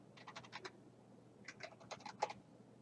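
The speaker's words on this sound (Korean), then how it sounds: "여기다 홈페이지라고 폴더 이름 쓰겠습니다" Someone types a folder name on a computer keyboard with quiet, close key clicks in two short bursts separated by a pause, in an otherwise still room.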